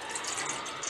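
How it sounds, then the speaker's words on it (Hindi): A glass of water poured into a pan while making a home cholesterol remedy, a steady close splashing pour for about a second with no talk. "हमने एक पैन लिया है, उसमें डाल देंगे 1 गिलास पानी।"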